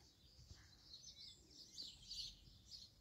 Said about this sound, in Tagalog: Ang ganda ng awit ng mga ibon.